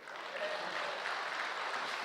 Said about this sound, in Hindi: मुझे पता है आप ताली क्यों बजा रहे हो